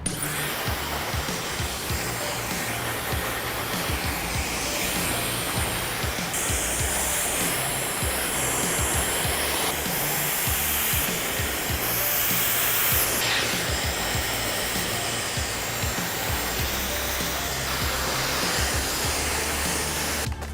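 A hair dryer blows continuously at close range during hair styling, a loud steady whoosh with slight shifts in pitch as it moves around the head.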